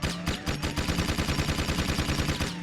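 Rapid automatic gunfire from a weapon in the 2003 video game Jak II, a steady, fast train of evenly spaced shots fired continuously and close, with no talk over it.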